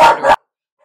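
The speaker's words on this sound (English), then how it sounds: "they're learning they get treats for barking while we're streaming" A single loud, close dog bark, short and sharp, indoors, followed by silence.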